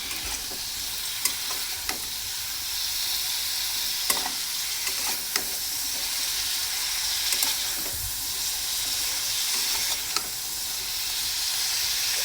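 Fish fries in a pan over a low flame on an outdoor stove, giving a steady, close sizzle that runs throughout with occasional sharp crackles and clicks.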